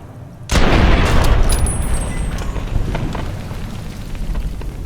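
Explosion in Fallout: New Vegas, a sudden loud boom bursting in after a quiet start, then a long rumbling, crackling tail that slowly fades with scattered pops.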